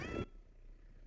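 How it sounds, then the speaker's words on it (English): A small cat at an airport gives one short, close meow that cuts off abruptly, followed by a quiet low hum. "And we got this little kitty"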